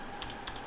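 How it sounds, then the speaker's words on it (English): Two quick bursts of keystrokes on a computer keyboard, crisp clicks close by and isolated, with no talking. "So let's start typing."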